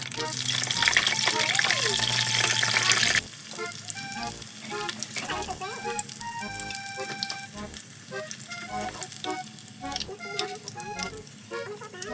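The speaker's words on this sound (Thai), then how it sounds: "แล้วก็ทอดไข่ที่เราต้มไว้ค่ะ ทอดให้ครบเลยนะคะ" Boiled eggs frying in hot oil in a Thai home kitchen: a steady, bright sizzle that grows louder and denser for a few seconds, then continues at a lower level with scattered pops and the scrape of stirring.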